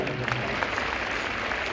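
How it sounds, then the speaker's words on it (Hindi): Indoor religious gathering audience breaking into a short, dense burst of hand clapping that stays steady throughout, with a voice faintly audible underneath. "एक बार जोरदार ताली।"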